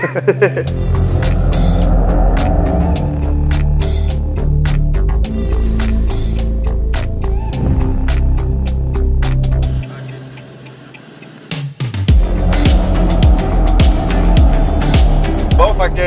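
A Mercedes-AMG E63 S drives with a loud, constant engine roar and busy ticking texture, briefly dropping quieter before surging back, with speech likely mixed in.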